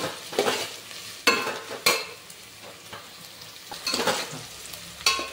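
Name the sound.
onions being fried and stirred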